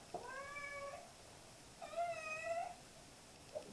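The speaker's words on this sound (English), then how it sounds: "It's my cat, sorry." A domestic cat meows twice, close by and clearly, with drawn-out rising and falling calls over quiet room noise and a short faint chirp at the end.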